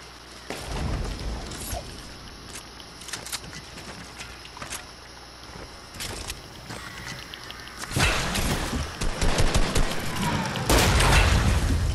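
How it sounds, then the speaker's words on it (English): Submachine gun fire in a video game comes as rapid, crackling bursts of shots, with scattered single cracks early on and then dense, louder sustained firing toward the end; voices can be heard in the mix. "He's tagging me with like a fucking SMG"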